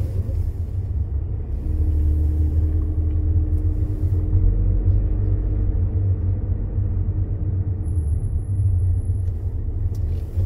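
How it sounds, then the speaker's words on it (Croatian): A car creeps along a street while its driver hunts for a parking spot, the engine a steady low rumble with road noise filling the whole stretch and a faint high whine near the end. "Da ćemo naći negdje da parkiramo ovdje auto."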